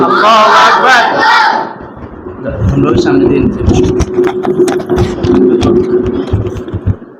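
A lone voice calls out, then a large crowd answers with a loud, sustained chant of 'Allahu Akbar' at a madrasa celebration honouring success in a national Hifzul Quran memorisation competition.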